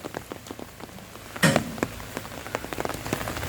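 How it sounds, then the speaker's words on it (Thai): Rain patters steadily on a surface at night beside parked pickup trucks, with scattered drops tapping close by and one brief louder splash partway through. "ฝนตกอีกแล้ว ตกทั้งคืนเลยครับ"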